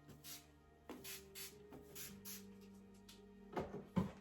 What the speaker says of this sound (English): I'm going to prep as well with the Mode Salt Spray. A light mist through the hair on dry hair.